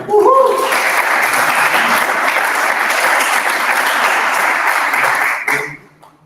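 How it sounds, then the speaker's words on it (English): Audience applause for a startup pitch at a live demo night, dense steady clapping that starts abruptly after a brief voice, holds loud and even for about five seconds, then fades out. "Round of applause for him."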